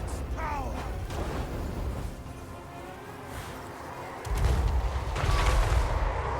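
Artillery bombardment in Total War: Warhammer III, a battle with Grand Cathay forces: a steady low rumble of mechanisms and distant booms that swells into heavier, louder impacts in the last couple of seconds.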